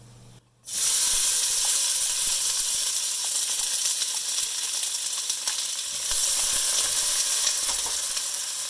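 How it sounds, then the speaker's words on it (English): Onion goes into hot oil with cumin seeds. After a brief quiet moment comes a sudden loud, steady hiss and sizzle that continues close up and unbroken. "Now we're going to go in with some onion."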